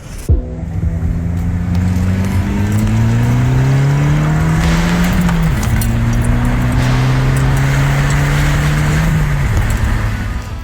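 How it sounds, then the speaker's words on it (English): Car engine revving hard and accelerating through several gear changes, a loud continuous roar with rising pitch that drops at each shift, up close with no talk. "those car sounds courtesy of Scott"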